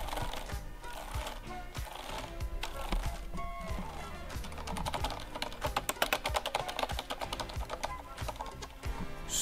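Rapid typing on a Corsair Strafe RGB mechanical keyboard with Cherry MX Silent switches, a dense, close run of soft muted key clicks that quickens into faster bursts toward the end.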